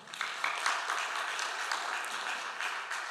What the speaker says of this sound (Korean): 이때 좀 박수 한번 나와야 되는데